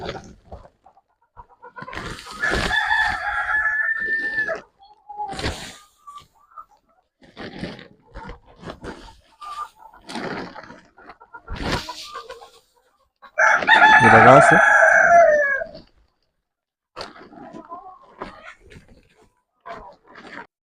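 Laying hens calling loudly at close range in a poultry shed, with bursts of clucking and a long, harsh rooster-like crow partway through, separated by short pauses.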